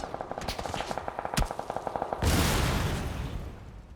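Rapid bursts of automatic gunfire rattle for about two seconds in PUBG, then a car explodes with a loud boom and roar, fading slowly.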